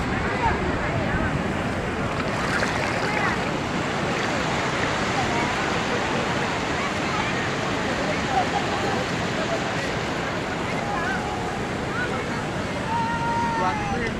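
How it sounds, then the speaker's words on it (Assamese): Big ocean waves surge onto a beach in a steady, loud wash of surf mixed with gusting wind noise, continuous for the whole stretch with a faint voice here and there. "ইমান ডাঙৰ ঢৌ আহে বন্ধুসকল"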